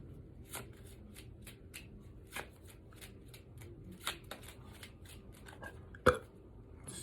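Playing cards being shuffled by hand give a quiet run of soft riffles and taps in irregular bursts, close and low in level, with one sharper snap near the end and no talk.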